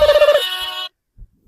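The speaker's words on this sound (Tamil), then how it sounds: "எனக்கு ஒரு ஃபோன் வருது" A mobile phone ringing with an incoming call: a loud, close electronic ring pulsing rapidly and then holding a tone before it cuts off abruptly, followed by near silence.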